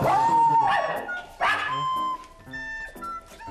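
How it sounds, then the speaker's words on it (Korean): A Spitz and another dog bark fiercely at a visitor indoors, with several loud, close, sharp barks and yips in quick bursts separated by short gaps. "강 훈련사 방문에 격하게 짖는 녀석들"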